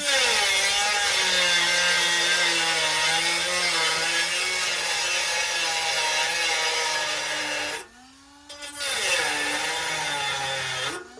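A power tool cuts through welds on a rust repair panel of a 1972 VW Beetle, a loud, high, steady whine with a grinding edge. It runs close by, stops briefly near the end, then starts again.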